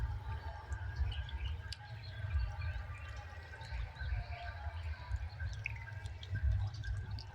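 Water churning and splashing steadily in an aerated cement biofloc fish tank, driven by an air oxygen tube and tray, with close constant gurgling and small drips.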